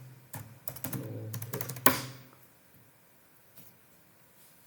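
Typing on a computer keyboard during an Eclipse IDE download in the Microsoft Edge browser: a quick burst of clustered key clicks with one sharper strike, then near silence.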